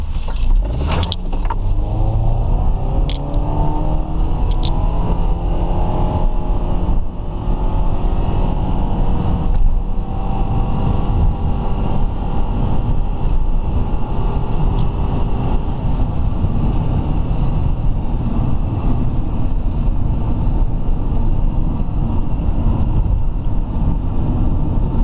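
A Nissan Qashqai's engine runs on petrol during an LPG system test, a continuous loud drone with a rising whine early on before it settles into a steady hum for the rest of the time.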